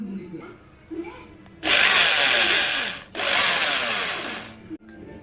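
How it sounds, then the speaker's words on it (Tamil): A power drill whines loudly in two sustained bursts separated by a brief pause, close by, with faint background noise before and after, drilling holes to fit fog lights on a Pulsar 220 motorcycle. "இதில் நம்ம ட்ரில் போட்டு ஓட்ட போட போகிறோம்"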